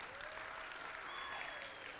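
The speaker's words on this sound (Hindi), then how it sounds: "आप लोगों ने सबसे ज्यादा तालियां बजाई हैं टीम ड्रैगन्स के लिए।" A television game show's studio audience applauds for team Dragons, giving a faint, steady patter of clapping that lasts the whole moment.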